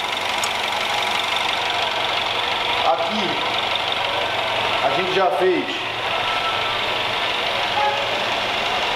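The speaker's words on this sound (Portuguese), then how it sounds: "Motor funcionando igual um reloginho." A Peugeot 3008 THP engine, freshly rebuilt after cylinder head failure, idles steadily at close range, a continuous even running sound with someone speaking briefly over it.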